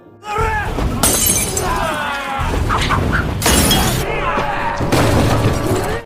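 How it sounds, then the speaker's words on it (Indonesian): A glass bottle is thrown and shatters during a brutal gang street brawl, with sharp bursts of breaking glass standing out over dense, loud background noise. "barudak Maekti bermain curang dengan ngabaledokeun botol kepada Riot Boy secara brutal"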